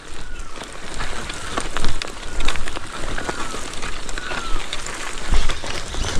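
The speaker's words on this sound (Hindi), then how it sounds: "बारिश आने लग गई है" Rain patters over hillside farm fields in a mountain village, a steady close crackle of drops hitting the ground and leaves, with brief louder bursts and no speech.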